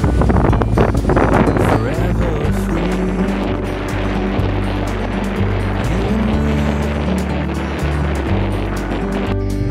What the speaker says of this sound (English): It's been windy for weeks.